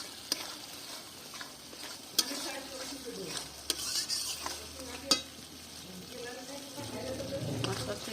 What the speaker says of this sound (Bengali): এভাবে একটু নেড়ে নেবো